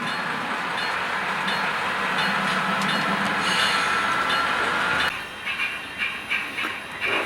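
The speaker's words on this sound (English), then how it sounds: "The yard is being switched. There's a train of 5 cars in" Model train cars clatter and rumble steadily for about five seconds while switching in a layout yard, then the sound drops to quieter, intermittent clanks and knocks as the train slows.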